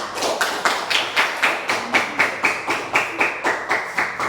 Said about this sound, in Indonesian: Tepuk tangan untuk kelompok tiga.